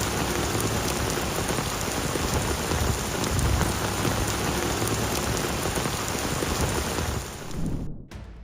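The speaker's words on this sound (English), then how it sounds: "Heavy rain turned the streets of Norman into a raging river" Heavy rain pours down on flooded streets in Norman, a dense, steady roar of water close by that cuts off abruptly near the end.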